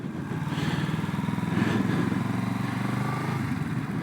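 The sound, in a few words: Kawasaki Z650RS motorcycle engine on a hill start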